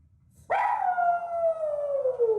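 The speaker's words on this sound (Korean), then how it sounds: "급기야 하울링까지 하는데요" A restless, anxious dog left alone at home after its owners go to work lets out one long, loud howl that slides slowly downward in pitch, sustained with no other sounds.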